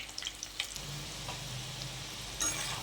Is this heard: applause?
no